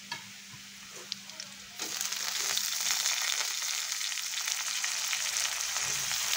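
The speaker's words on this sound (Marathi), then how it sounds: "टोमॅटो टाकून चांगलं परतून घ्यायचं" Tomatoes dropped into a pan of browned onion, the quiet frying swelling abruptly into a loud, steady sizzle that holds close and constant, with occasional stirring scrapes.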